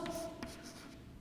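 Pen or chalk scratches out an example sentence during an English lesson, a short run of soft close strokes over a low background hum.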